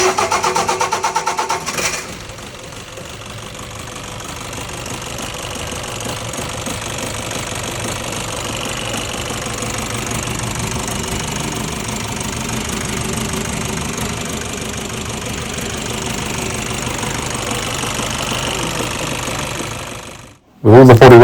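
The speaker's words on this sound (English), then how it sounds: "the first start of the engine." A van's engine fires up for the first time after restoration and runs with a rough, knocking clatter, loud and close, holding a steady hammering idle for nearly twenty seconds before cutting off abruptly.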